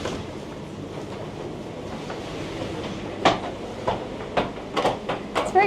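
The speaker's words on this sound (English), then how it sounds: "Time to board the Italian train." An Italian passenger train crossing the Alps from Switzerland rumbles along with a low, steady hum, then sharp clacks of the wheels on rail joints grow louder and more frequent.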